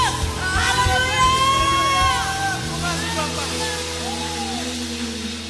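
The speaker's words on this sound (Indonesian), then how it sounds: "Berikan sorak-sorai kemuliaan buat Tuhan Yesus Kristus" Church congregation at a Sunday worship service cheering, whooping and shouting praise together, a loud sustained crowd roar with overlapping voices over music.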